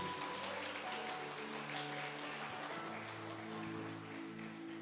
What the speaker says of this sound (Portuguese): você pode aplaudir a Ele em nome de Jesus